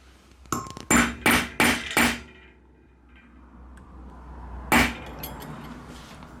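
Hammer blows stamping a Viking Age silver armring, four quick ringing metallic strikes in a row, then a pause and one more solid strike, with faint clinks trailing after.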